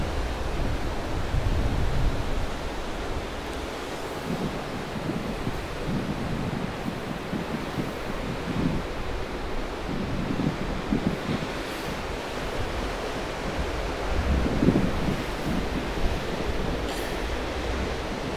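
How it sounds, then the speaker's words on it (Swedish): Huge ocean waves, around 25 meters high, crash and roar in a continuous, heavy wash of surf mixed with gusting wind, with no voices. "nu kommer det helt fantastiska vågor här"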